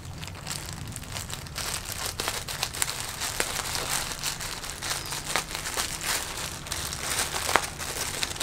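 A package bought on Tokopedia is unwrapped up close, with continuous crinkling and rustling of plastic wrap, scattered tearing sounds and crackles, and no talk.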